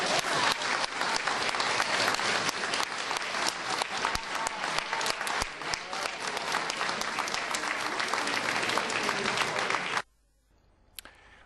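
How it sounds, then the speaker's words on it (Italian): Sustained loud applause from a crowd honouring a man, a thick continuous wash of clapping for about ten seconds before it stops abruptly, followed by near silence and a faint click. "Un applauso a quest'uomo per la tempra da campione"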